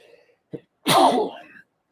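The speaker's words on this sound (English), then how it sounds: "I'm going to sneeze in a second." A single loud sneeze up close, with a short intake of breath just before it and quiet all around.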